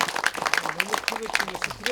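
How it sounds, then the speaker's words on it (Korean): Scattered clapping from an audience at an on-site meeting about the great pine tree of Uljin. The claps are irregular and moderately loud, with voices talking throughout. "여러분 다 같이 박수 한번 칩시다."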